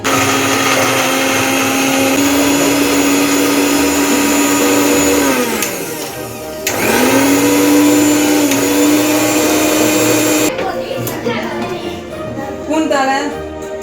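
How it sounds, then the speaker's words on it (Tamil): An electric kitchen mixer grinder pulverises Oreo biscuit pieces into powder with a loud, steady motor whine that winds down midway, restarts, then turns rougher and choppier near the end. "ஓரியோ பிஸ்கெட் பீசஸ்லாம் அந்த மிக்ஸியில் எத்தனை வாட்டி அரைக்கணும்னா 3 வாட்டி அரைக்கலாம்."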